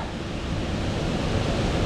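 Roar of the lower Carrington Falls on a hike, a steady, loud broadband rush of falling water filling the clip without a break.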